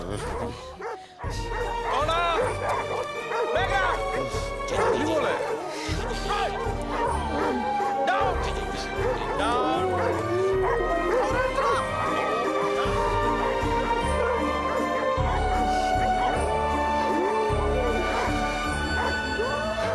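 A pet dog barks and yips repeatedly in short bursts with some whimpering, mixed with music and people talking.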